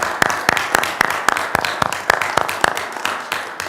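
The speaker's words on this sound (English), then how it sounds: "I would ask my council and admin to join with me in a round of applause." A round of applause fills a town council meeting room, the claps landing in a fairly regular, brisk rhythm, close and clear, continuing for several seconds without speech.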